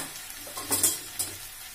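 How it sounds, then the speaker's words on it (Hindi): Potatoes fry on high heat in a pan, giving a soft, steady sizzle. A few brief scraping stirs rise above it. "आलू को हमेशा तेज आँच में भूनना है, अच्छा आलू भूनता है।"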